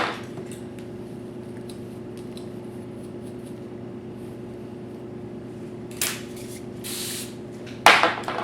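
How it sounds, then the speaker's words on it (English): Hairspray aerosol sprayed onto a styled updo in two brief hissing bursts near the end, following a quiet stretch with faint handling noises and a sharp clatter right after. "I'm gonna spray it."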